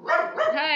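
A dog on a rat hunt lets out a short, close, yelping bark that trails into a higher whiny tone.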